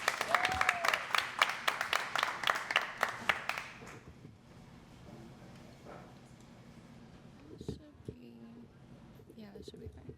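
Audience applause and whoops at a Boston poetry reading greet the next poet, loud and dense for several seconds before fading into room murmur and a few soft voices.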